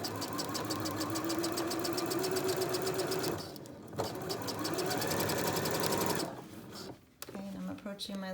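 A sewing machine stitches a pocket into knit leggings with a fast, even mechanical whir and needle clatter, pausing briefly twice before restarting, heard up close under occasional quiet talk.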